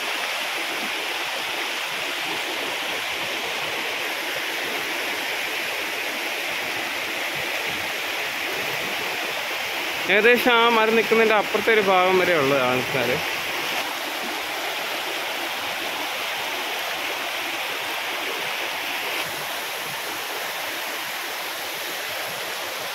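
Vadattupara Waterfalls near Kothamangalam pours in a steady, broad rushing roar that never lets up, with someone talking briefly over it partway through.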